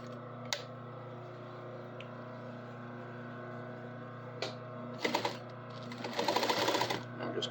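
A sewing machine runs steadily, stitching along a serged line on a folded stretch fabric, a continuous close mechanical hum with a few sharp clicks and a burst of faster rattling near the end.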